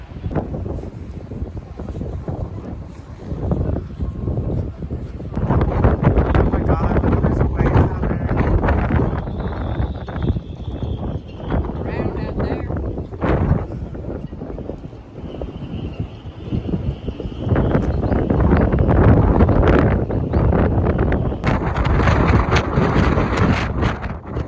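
Strong wind gusts buffet the microphone on the coast at Howth, a continuous loud rumbling roar that swells and eases throughout, with occasional faint higher sounds breaking through near the end.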